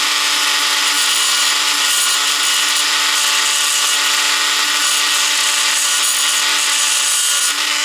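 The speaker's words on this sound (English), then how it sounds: "I think I'll try a rotary file, and this is probably the first time you've ever seen me use the Dremel this way" A Dremel rotary tool fitted with a rotary file grinds steadily and loudly on a casting in a shop, a continuous high-pitched whir with rasping cutting noise throughout, close and unbroken.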